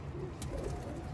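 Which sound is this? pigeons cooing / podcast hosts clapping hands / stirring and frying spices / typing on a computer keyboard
pigeons cooing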